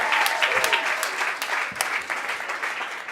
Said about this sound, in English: put a healthy round of applause together